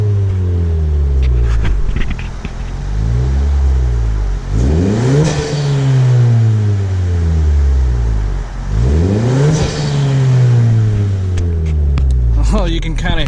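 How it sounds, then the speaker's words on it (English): A 10th-generation Honda Civic fitted with a PRL Cobra race intake and a ktuner tune revs in two loud, rising-and-falling bursts, each climbing sharply and then dropping back to a steady idle rumble, close up. "Now I'm gonna try to rev it here, but I think you only really hear the turbo noise if you are actually driving."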